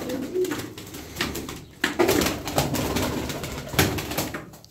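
Şam Kayısı pigeons coo repeatedly at close range, soft throaty calls overlapping one another against faint background rustle, with no one talking.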